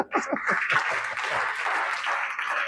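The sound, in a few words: church congregation applauding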